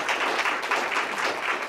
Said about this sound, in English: So I'd love everyone to give Will another round of applause.